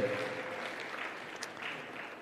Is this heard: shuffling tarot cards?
no